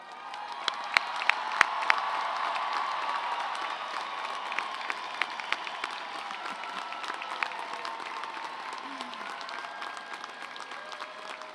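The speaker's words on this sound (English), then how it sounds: "will you please cheer and stand if you are able?" Graduates and guests at a 2023 university commencement for an arts, media and communication college cheer and applaud in a large hall, a dense steady wash of clapping and whoops with scattered sharp claps throughout.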